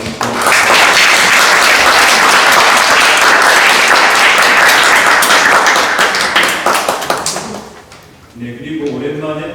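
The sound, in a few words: congregation applause welcoming a church visitor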